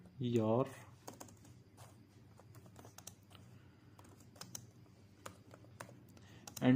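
Fast computer keyboard typing as Python code is entered, a run of light clicking keystrokes between brief bits of someone talking at the start and end.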